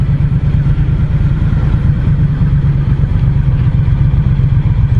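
A Triumph Street Cup motorcycle engine idles at a motorway toll booth, a loud, close, steady low rumble with an even throbbing pulse throughout and no voices.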